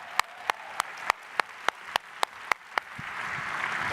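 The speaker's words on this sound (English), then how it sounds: "Toastmasters, we keep clapping until she gets up." A Toastmasters audience claps for a volunteer coming onstage, first as a slow run of crisp, evenly spaced single claps, then as a broader wash of applause from many hands.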